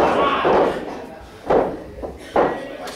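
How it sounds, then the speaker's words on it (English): Forearm strikes thud against an opponent's chest during a professional wrestling match, three dull impacts landing about a second apart over steady arena crowd noise. "Each one of those landed with a thud."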